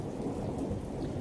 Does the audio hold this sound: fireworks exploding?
no